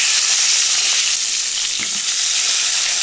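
Eggplant slices fry in a hot pan in a home kitchen, giving a steady, close, loud sizzle with a brief stir or clatter near the middle and no voices.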